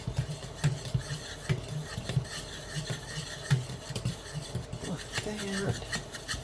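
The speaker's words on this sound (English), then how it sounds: "I'm going to grab my little dough whisk here. We're just going to whisk these together" A small dough whisk stirs ingredients together in a bowl for a sourdough discard yeast loaf, making rhythmic rasping and scraping strokes up close, with a voice speaking briefly over it.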